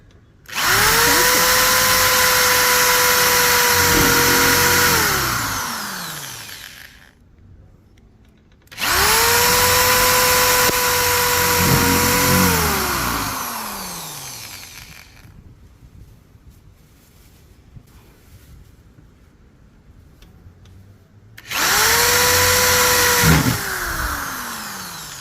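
A power drill bores holes in a cyclone shovel being converted into a sand scoop, with three loud, close bursts of high whine, each rising to speed, holding, then winding down, separated by quiet gaps.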